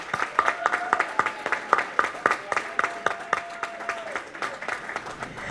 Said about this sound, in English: One more round of applause for all our students.